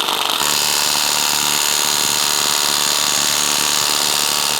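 Ryobi ONE+ HP 18V brushless compact 3/8-inch cordless impact wrench removing a car lug nut, a continuous loud buzzing hammer that runs steadily without a break.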